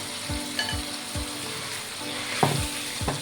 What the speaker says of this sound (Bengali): চিকেনটাকে দিয়ে সুন্দর করে একটু কষিয়ে রান্না করে নেবো